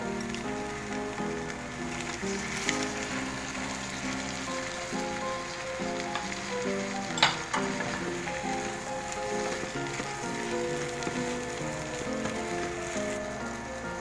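Shell-on shrimp sautéed in butter in a pan give a steady, even sizzle lasting throughout, under low background music with no talking.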